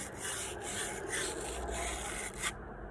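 A brass pipe fitting is scrubbed clean before soldering, with rhythmic raspy rubbing strokes about twice a second, close and continuous, stopping abruptly just before the end.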